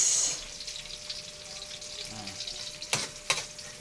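Chopped onion sautéing in a pan for a Filipino ampalaya (bitter melon) stir-fry: a steady close sizzle with a couple of sharp stirring scrapes near the end.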